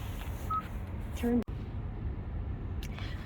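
Telephone dialing tones over the Bluetooth system of a 2026 Kia EV9 Land AWD: a short beep, then a quick run of stacked keypad tones ending in a click, then a quiet cabin hum.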